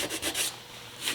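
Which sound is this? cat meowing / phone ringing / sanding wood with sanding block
sanding wood with sanding block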